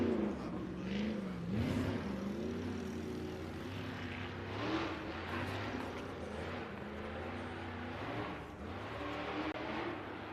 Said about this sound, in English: you can hear that engine once he lands on top of that rock ledge, just ripping up that hill